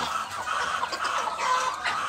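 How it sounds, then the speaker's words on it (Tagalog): Chickens, including Rhode Island hens, cluck and call at feeding time on a backyard farm, a steady chorus of overlapping fowl sounds at moderate distance. "May pabo, may chicken, may duck."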